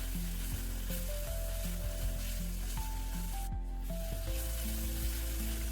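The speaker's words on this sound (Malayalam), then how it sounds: "നന്നായിട്ടൊന്ന് ഇളക്കി കൊടുക്കാം. അതിൻ്റെ പച്ചമണം മാറുന്നത് വരെയൊക്കെ നമുക്കൊന്ന് വഴറ്റിയെടുക്കാം." Crushed ginger and garlic sautéing in a pan for chicken mulakittathu, with a steady close sizzle and a few scraping stirs of a spoon throughout. No talking.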